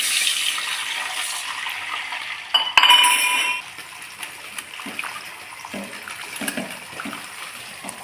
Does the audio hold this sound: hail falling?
no